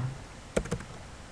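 Two or three quick key presses on a computer keyboard, faint clicks close together in a quiet room with no talking.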